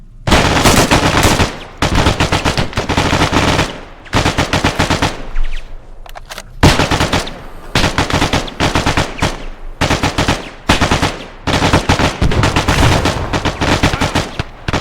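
Squad of soldiers opening fire together in a military video game, sustained loud bursts of automatic gunfire in repeated volleys separated by brief pauses.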